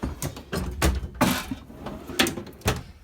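A series of metal tool box drawers on dual slides are slid open and shut, several rolling scrapes and thuds in quick succession, close and fairly loud.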